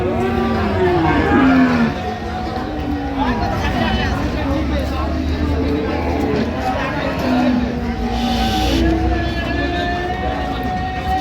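Sahiwal cows and calves moo loudly and repeatedly at a busy cattle market in Ambari, Dinajpur, long drawn-out calls overlapping amid a crowd of talking people and traffic noise.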